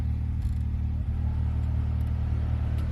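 A Honda Civic Si A/C blower motor runs with a steady low hum and whir, loud and close, with no talk.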